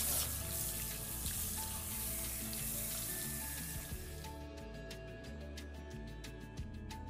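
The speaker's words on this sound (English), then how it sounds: "So we're gonna wash this out with lukewarm water." Lukewarm tap water runs steadily at a salon sink while a client's balayage-coloured hair is rinsed, a continuous close hiss with some splashing and no talking.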